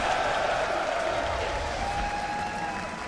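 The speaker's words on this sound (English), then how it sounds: "The crowd is going to cheer so loudly when it's in his inventory." Large arena crowd at the Dota 2 International esports tournament roars and applauds in a dense, steady wash of noise that lasts throughout, loud and reverberant.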